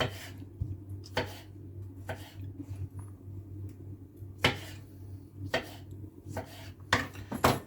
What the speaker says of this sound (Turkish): Evet son domatesimi de doğruyorum.